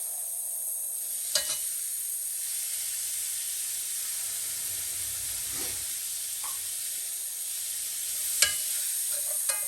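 Onions and vegetables sautéing in a pan give a soft, steady sizzle and hiss, with a few faint clicks and taps of a utensil scattered across the quiet.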